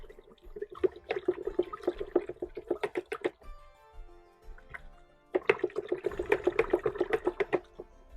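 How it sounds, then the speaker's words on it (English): Rhythmic liquid sloshing as a mixture is stirred into water for papaya mead, close and steady, in two long bursts separated by a short pause. "we're going to mix that in now until it is dissolved"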